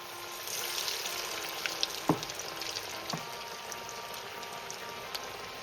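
Lentil and onion fritters (pyanji) frying in hot oil, a steady broadband sizzle that hisses evenly throughout, with a couple of sharper crackles and pops standing out near the middle.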